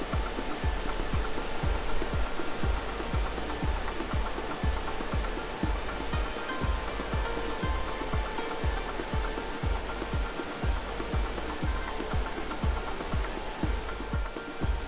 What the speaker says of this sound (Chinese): 哇，你看这一条瀑布好长哦。